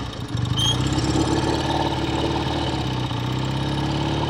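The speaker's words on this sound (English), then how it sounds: "This is a low idling bike, isn't it?" A 1969 BSA Lightning 650 motorcycle's twin-cylinder engine idles low and steady up close, a continuous throbbing rumble with no talk over it.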